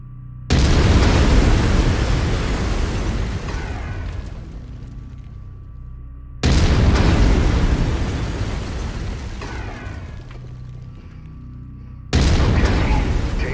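Autocannon in the mech combat game MechWarrior 5: Mercenaries, fired three times: deep, loud booming blasts at steady intervals, each with a long rumbling decay.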